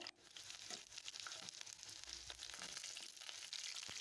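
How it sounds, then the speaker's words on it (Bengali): Chicken kebab pieces frying in hot oil in a pan, a faint, steady sizzle and crackle with scattered pops throughout and no talking. "আমি ওই তেলে বাদ বাকি মাংসগুলোকে আবারও ভেজে নেব।"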